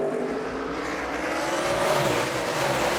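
NASCAR Sprint Cup stock cars racing at Watkins Glen, a loud, steady engine roar that fills the whole stretch with no break.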